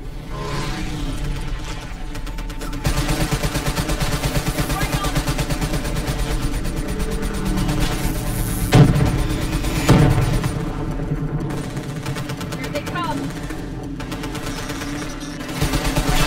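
Gunfire in Call of Duty Black Ops 3 rattles under a steady wash of game sound and music, with sustained automatic bursts and a couple of louder sharp impacts near the middle, mixed with voices talking.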